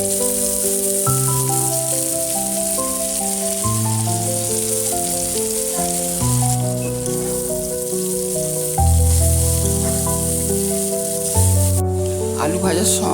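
Chow mein with fried potatoes, tomato and green chili sizzling together in a pan, a steady hiss of frying running under fairly loud background music throughout.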